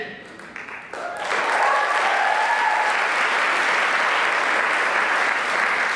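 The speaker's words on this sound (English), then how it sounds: "You guys can clap for him" An audience at a welcoming ceremony breaks into loud, sustained applause after a brief stretch of voices, the clapping swelling quickly and holding steady.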